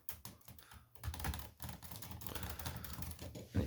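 Keys on an old, partly broken typewriter tap in quick uneven bursts, close and crisp, with brief pauses between clusters of strikes.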